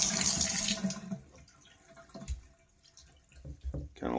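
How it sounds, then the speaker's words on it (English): Cold tap water runs onto the filter of a germ-free Honeywell home humidifier, a loud, close splashing gush that cuts off after about a second, followed by scattered drips, handling knocks and brief talking. "So just run cold water and then let it sit."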